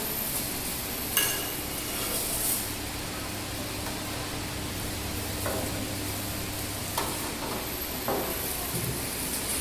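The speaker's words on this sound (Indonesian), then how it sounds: "Kentangnya sudah diserut, kemudian digoreng." Grated potatoes frying in oil in a wok, giving a steady, broad sizzle throughout, with a few louder scrapes and clinks of stirring scattered over it.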